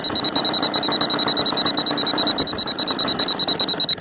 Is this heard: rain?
no